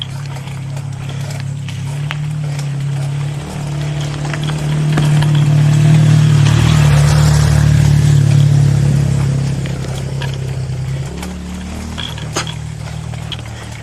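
A motorcycle engine on a Mt. Balagbag bike ride drones steadily and loudly, swelling to a louder rev in the middle before easing back, with no talk over it.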